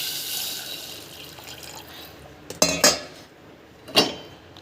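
Water is added to a metal pot of raw mangoes cooking with salt and jaggery, a soft running trickle followed by a couple of clear metallic clanks of the pot and utensils, close and without talk.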